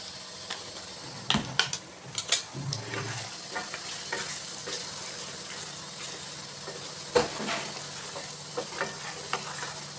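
Chili powder being stirred into mutton curry frying in a pan, a steady sizzle with scraping spoon strokes and a few sharper knocks, close and moderately loud, no talking.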